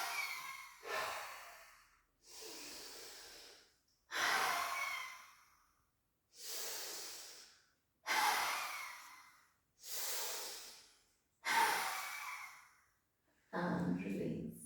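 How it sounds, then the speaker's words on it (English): Lion's breath in a yoga class: seven forceful, breathy exhales with the tongue out, each a long hissing rush of air, spaced evenly every two seconds or so, close and clear. "bring your tongue out for Singhasana as you exhale."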